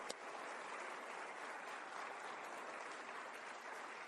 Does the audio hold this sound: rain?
no